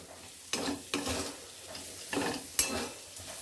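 Potatoes, peas and peanuts fry in a pan while a utensil stirs them, giving four or five distinct scraping sweeps over a low sizzle, close up and without speech.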